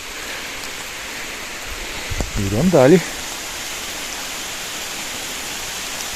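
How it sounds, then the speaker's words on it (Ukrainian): Steady rain hisses through a forest throughout, with a brief spoken phrase near the middle. "Дощ не хоче переходити, тільки набирає силу"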